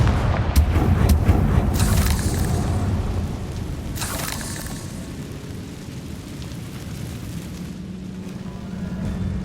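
Confringo blasting curse explosions in Hogwarts Legacy: heavy booming blasts with a sharp burst early on and another around the middle, trailing into a rumbling, crackling tail.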